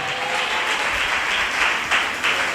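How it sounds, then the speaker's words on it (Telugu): A church congregation claps loudly together, dense steady applause filling the space for a couple of seconds with no voices above it. "ఒకసారి గట్టిగా చప్పట్లు కొడతాయని మహింపరచండి"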